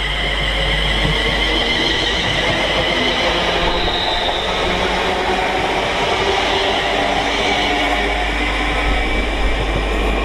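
London Northwestern Railway Class 350 electric multiple unit passing through Stafford on the West Coast Main Line, a steady close rumble of wheels and motors with faint rhythmic rail clicks, continuous throughout.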